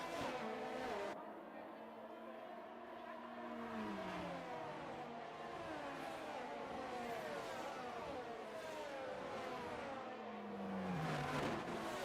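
Formula 1 cars in a racing video game scream around the Brazil circuit, with engine pitches rising and falling as they accelerate and shift. The sound is steady and moderately loud, with occasional passes from other cars.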